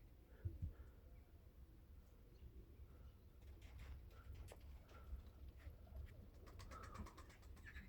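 A pigeon coos softly a few times amid quiet outdoor ambience, with faint chirps and light tapping in the background.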